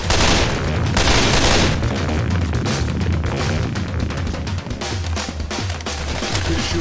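Dense, continuous gunfire and booming shots from the zombie shooter Left 4 Dead 2 on PC, a loud unbroken barrage with scattered sharper reports throughout.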